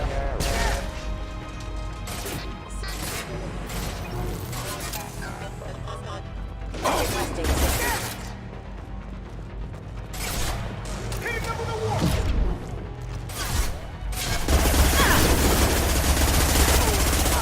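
Gunfire from shooting enemies in the video game Mass Effect 2, with bursts of loud, sharp weapon shots and crashing impacts that run through game music and sound effects.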